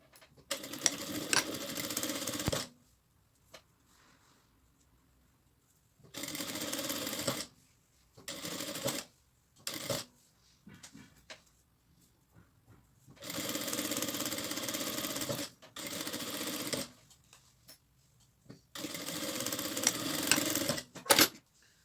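Sewing machine stitching a seam on a simple sewing project, running in several separate bursts of a few seconds each with quiet gaps between, moderately close.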